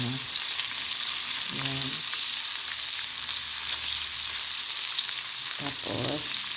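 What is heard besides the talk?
onions frying in oil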